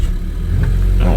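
A 2017 Mazda CX-5 with a 2.5L engine and a long-crank fault catches and fires up, a loud close rumble that swells briefly as the engine starts.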